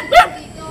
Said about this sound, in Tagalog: may aso sila rito mga kababayan